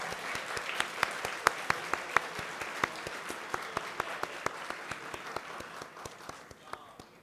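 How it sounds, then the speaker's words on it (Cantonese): Applause at a secondary school graduation ceremony in a hall, a crowd clapping steadily and fairly evenly for several seconds, with a few sharper claps standing out before it thins and fades. "我哋再用熱烈嘅掌聲嚟到恭賀佢哋啊！"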